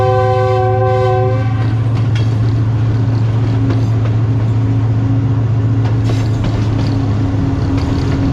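Pakistan Express diesel train running through Sindh between Hyderabad and Rohri, a loud steady rumble and engine drone with a long multi-tone horn blast sounding at the start and fading under the rolling noise.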